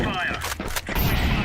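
A fire grenade thrown in a multiplayer shooter game sets off a few sharp bursts against a busy mix of game noise, with a voice talking briefly over it.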